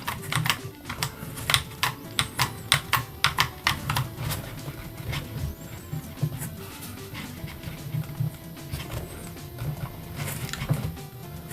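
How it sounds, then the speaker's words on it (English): The shoulder buttons of a Steam Deck OLED clicking, a close series of crisp, sharp clicks in quick irregular bursts, fading to sparser taps later, with no talk. "The shoulder buttons are still clicky and still feels the same."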